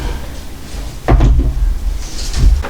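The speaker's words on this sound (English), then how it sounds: "I'm going to put the lid on." The lid of a resin curing machine is set down and closed, giving a close, dull thunk followed by a softer knock against a low background hum.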